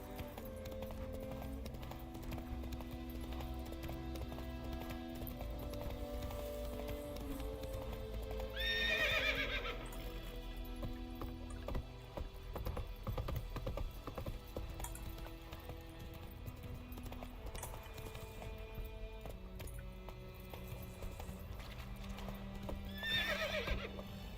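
A horse gallops in Witcher 3, with steady clip-clop hoofbeats running throughout and two loud neighs, one midway and one at the end, over game background sound.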